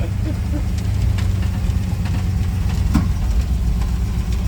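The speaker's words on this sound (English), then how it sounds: "Oh, that's the backfire." A broken GMC truck's rumbling engine idles steadily, broken by a few scattered sharp backfire pops from the exhaust, one louder crack near the end.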